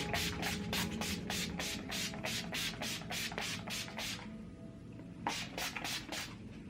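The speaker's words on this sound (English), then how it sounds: "I then use my Urban Decay All Nighter setting spray, and I basically drench my face in this stuff." Urban Decay All Nighter setting spray misted repeatedly onto a face, a rapid run of about fifteen short, close, hissing pump bursts, a brief pause, then three more sprays.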